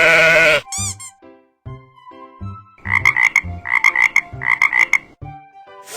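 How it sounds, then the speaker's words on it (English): A frog croaks in a steady run of short, raspy pulses grouped in quick bursts, loud and close, after a brief bleating animal call at the start. "F-R-O-G, frog."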